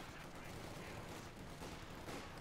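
Submachine gun fire from MP-40s in Company of Heroes 2, a dense, continuous crackle of distant battlefield gunfire with overlapping bursts filling the whole stretch under a busy wartime mix.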